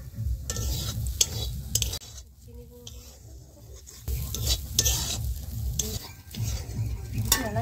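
Grated coconut lightly toasted in a pan is stirred with crushed ginger, making repeated close scraping strokes with a soft sizzle underneath and no voices.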